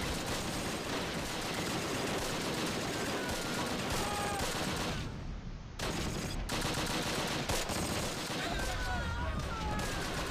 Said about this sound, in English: And we have got an artillery barrage.